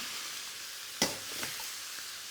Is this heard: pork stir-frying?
yes